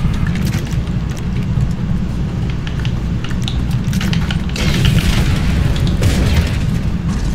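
Shotgun shots in a multiplayer video game firefight, heavy booming blasts over a loud rumbling game background, several bursts of shots with scattered crackles, no talking.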